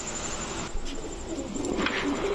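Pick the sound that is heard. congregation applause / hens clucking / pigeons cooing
pigeons cooing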